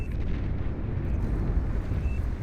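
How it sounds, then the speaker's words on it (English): A battleship blowing up in the real-time strategy game Beyond All Reason, a deep rolling boom that rumbles heavily and continuously for a couple of seconds with no voices over it. "Still, though, the other battleship goes down."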